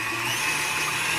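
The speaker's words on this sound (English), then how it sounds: "what we're first going to do is just beat the egg whites until they're frothy" A stand mixer whips egg whites to a froth for Italian meringue buttercream, giving a steady, close, high-pitched motor whine that holds even and continuous throughout with no talking.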